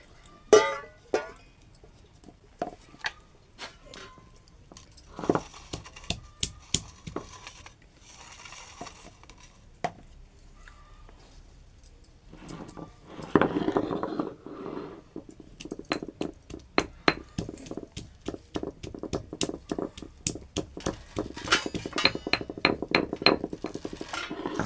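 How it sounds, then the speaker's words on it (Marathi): Washed ambadi (roselle) leaves are chopped for sabzi with a knife on a board: sparse, irregular cuts at first, then a long run of quick, steady chops, close and fairly crisp, with no talking. "आणि मी इथे आता तो कट करणार आहे."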